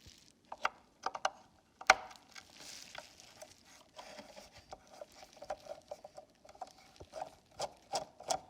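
Small T10 Torx screws are worked out of a VW Golf door mirror adjuster: faint, close ratcheting clicks and small metallic ticks and taps come in scattered bursts, with brief handling rattles in between.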